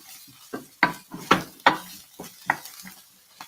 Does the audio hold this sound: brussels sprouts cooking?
yes